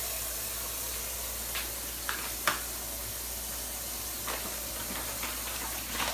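Running water steadily hisses over pork ribs being rinsed, a constant soft splashing stream with a few faint clicks and knocks.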